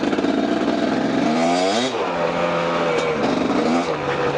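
A KTM enduro motorcycle engine revs hard and close, pitch sweeping up and down through several throttle blips over a few seconds, with no talk over it.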